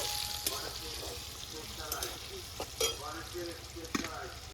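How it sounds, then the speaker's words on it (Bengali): Bay leaves and dried red chilies sizzle and crackle in hot oil in a pan, a steady frying hiss with occasional stirring scrapes, while a voice talks over it. "তার সাথে আস্ত তেজপাতা আর শুকনো লঙ্কা। ভালো করে নাড়িয়ে চাড়িয়ে একটু হালকা ভাজা ভাজা হওয়ার পরে"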